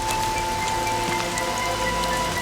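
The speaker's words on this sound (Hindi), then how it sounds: "एफसून, बारिश हो रही है, अंदर आओ तुम।" Steady rain falls in a dense, continuous patter during a rainy outdoor scene, loud and even throughout, with a faint tonal hum underneath and no voices.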